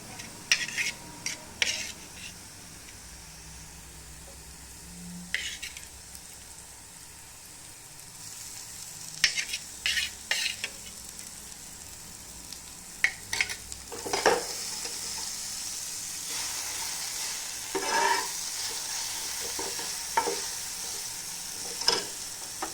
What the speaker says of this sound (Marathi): आता ही छान परतवायची तेलामध्ये